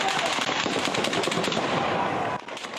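Rapid bursts of gunfire crackle continuously in the streets of Kherson, Ukraine, loud and dense, with overlapping shots before easing slightly near the end.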